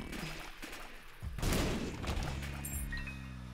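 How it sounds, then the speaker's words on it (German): A short burst of explosive blasts and crackling pops as flies explode in The Binding of Isaac: Afterbirth+, fairly loud, followed by a ringing tonal effect. "also die Fliegen explodieren"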